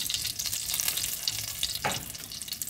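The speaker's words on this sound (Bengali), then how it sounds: "দারচিনি, লবঙ্গ আর দুটো ছোটো এলাচি ফাটিয়ে আমি দিয়ে দিয়েছি।" Cinnamon, cloves and small cardamom pods crackling in hot oil, a dense, close sizzle with bright popping and one sharper crackle near the end.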